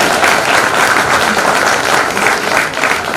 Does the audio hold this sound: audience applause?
yes